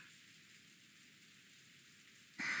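Steady rain falling outside a mansion, an even, continuous hiss of drops that swells suddenly louder at the very end, with no voices.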